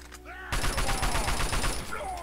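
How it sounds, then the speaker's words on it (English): Rapid automatic fire from an assault rifle in Fallout 3: a dense burst of loud, close shots starting after a brief quiet lead-in and continuing steadily to the end. "Switch over to the assault rifle."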